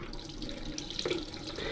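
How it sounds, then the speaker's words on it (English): Warm tap water runs steadily into a sink, rinsing a Bosch Tassimo Joy coffee machine's piercing unit and nozzle, a continuous close splashing flow throughout. "So I'm just going to use some warm water and I'm going to just rinse it right the way through."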